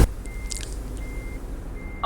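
A truck's reversing alarm beeps three times at an even interval in a truck driving video game, over a low engine rumble.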